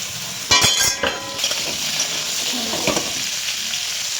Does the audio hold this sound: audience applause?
no